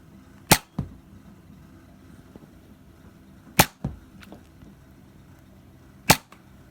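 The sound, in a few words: Nerf Jolt blaster firing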